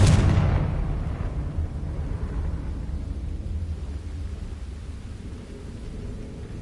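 A Confringo fire spell from Hogwarts Legacy bursts in one loud, close explosion, then leaves a long rolling rumble that slowly fades, with no voices.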